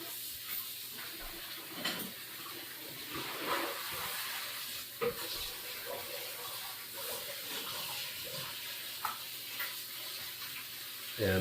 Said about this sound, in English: let this simmer, and then I'm going to add the shrimp